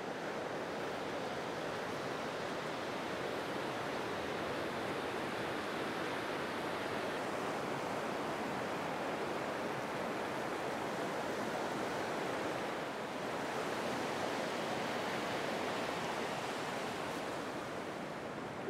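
A brook on the Finland–Sweden border gives a steady, even rush of flowing water that continues unbroken, with a faint breath of wind and no voices.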